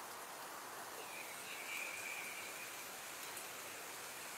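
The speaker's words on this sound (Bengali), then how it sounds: "দর্শক দেখতে পেয়েছেন আসলে বৃষ্টির কত শব্দ" Heavy rain falls steadily during flooding in Chhatak, making a continuous, even hiss of downpour with no voices over it.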